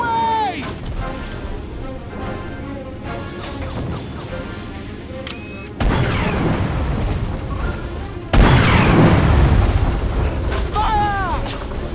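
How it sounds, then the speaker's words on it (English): Torpedoes launching and blasting during a ship battle at Procyon in the Treasure Planet video game, with heavy booming impacts and crashes stacked over game music and effects, growing louder in two sudden surges toward the end. "Torpedoes away!"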